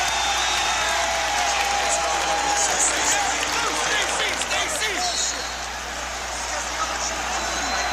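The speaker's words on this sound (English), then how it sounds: "And here's the applause from the crowd." A large crowd applauds and roars continuously inside Chicago Stadium at a Bulls versus Cavaliers Eastern Conference Finals playoff basketball game, with a voice faintly underneath the sustained noise.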